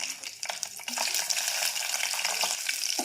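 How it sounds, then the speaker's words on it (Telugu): Dried red chillies and seeds tempering in hot ghee and oil, a dense crackling sizzle close up that intensifies after the first second, with small spoon clinks and no talking. "ఇలా నెయ్యితో మీరు కూడా తాలింపు పెట్టుకోండి"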